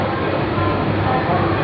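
Rumbling train carriage noise on a ride toward Thane, a steady low roar and rattle that fills the whole stretch without a break.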